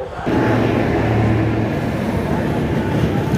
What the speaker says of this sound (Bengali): এদিকে একটা ট্রেন এলো